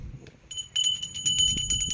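A small ritual bell rings during a Hindu puja, producing rapid repeated clear metallic rings at a steady quick rhythm after a brief quiet start, moderately loud against soft background noise.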